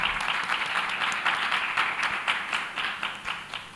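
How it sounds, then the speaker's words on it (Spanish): A crowd applauds continuously in welcome at a public discussion forum in Bolivia, dense clapping at a steady level that thins slightly toward the end. "también voy a pedir para él un aplauso de bienvenida."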